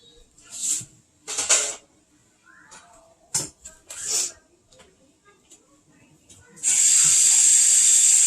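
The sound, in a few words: hot water running from a tap into a sink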